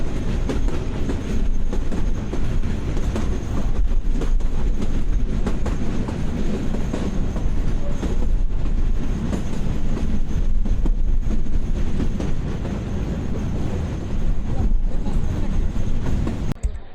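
Passenger train running on rails in Bangladesh, a loud, steady rumble from inside with rhythmic wheel clatter and rattling carriages, continuous throughout.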